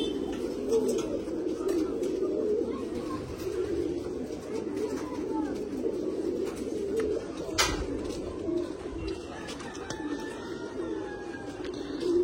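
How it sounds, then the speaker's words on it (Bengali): A flock of pigeons coos in a steady, overlapping murmur, close and continuous, with a few brief sharper chirps; no wing flaps stand out. "তবু আমরা চেষ্টা চালাচ্ছি যদি পায়রাগুলো ওড়ানো যায় ভালো করে"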